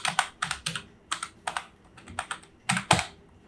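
Keys on a computer keyboard are typed in short irregular bursts of crisp clicks with brief pauses between words, close and clear with no talking.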